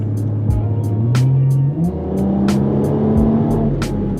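A powerful Dodge Charger wide-body engine revs loudly and climbs in pitch, with deep rumbling and repeated sharp throttle blips, close and dominant throughout.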